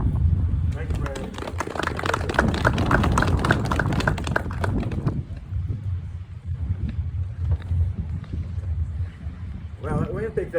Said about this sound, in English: that wind picked up, didn't it?